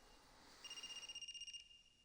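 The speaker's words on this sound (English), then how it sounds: "Is that... a phone ringing?" Phone ringing in the video game AI: The Somnium Files, a faint electronic trill with one burst of rapid pulsing tones about a second long over quiet ambience.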